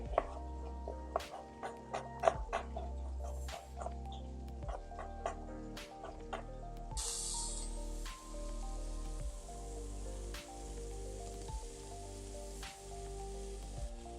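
A knife chops through an onion on a cutting board in a steady run of crisp, evenly spaced strikes, close and clear with no talking.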